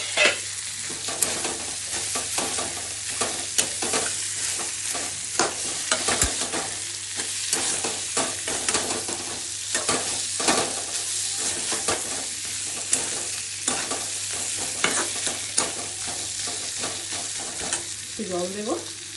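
A hilsa fish head fries in a rajma curry masala while being stirred, giving a continuous close sizzle broken by frequent rhythmic scraping and clanking strokes of a spatula against the pan.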